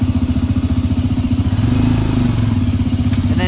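A motorcycle engine runs loud and close, with a steady pulsing throb as it pulls away and rises slightly in pitch, and no talking.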